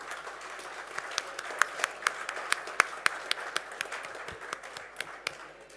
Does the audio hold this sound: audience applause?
yes